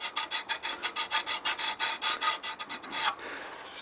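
A wooden bowl held on a locked lathe is hand-sanded with quick back-and-forth strokes, a rhythmic rasping scrub of about twenty close strokes that stops near the end, with no talk.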